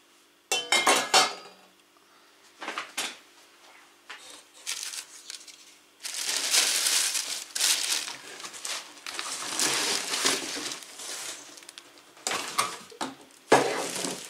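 Stainless steel pots and lids from a TalleR TR-7120 cookware set clank and scrape as they are handled and set down, a series of close, bright clinks and rattles with short pauses between.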